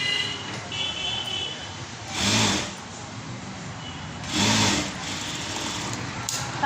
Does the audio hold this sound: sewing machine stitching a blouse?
yes